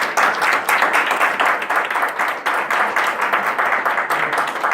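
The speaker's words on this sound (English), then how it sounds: "Can we have a big round of applause for it?" An audience at a speech evaluation session breaks into sustained applause, many hands clapping steadily and fairly close throughout, with no voices rising above it.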